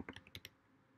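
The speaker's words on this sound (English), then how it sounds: "I'm kind of slow with my typing," Quick burst of typing on a computer keyboard, several close, crisp key clicks in fast succession that then stop.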